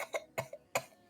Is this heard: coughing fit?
yes